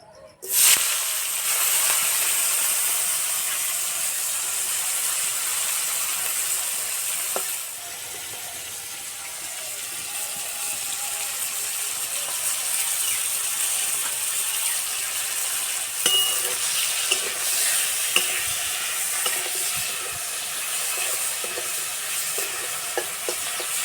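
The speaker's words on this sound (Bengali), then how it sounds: "তেল ভালো করে গরম করে নিয়েছে এবার মাছ ভেজে নেবো" Fish frying in well-heated oil, a steady hiss and sizzle that sounds loud at first and then settles, with occasional stirring and light clinks.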